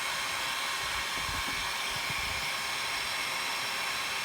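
A dryer blows air over small parts of a Herbert Schmidt Texas Scout .22 Long Rifle during cleaning, a constant loud whooshing roar with a few faint handling bumps underneath.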